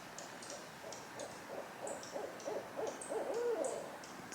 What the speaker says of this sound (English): It's an interesting little noise. I don't know if this is a bird or an owl or what.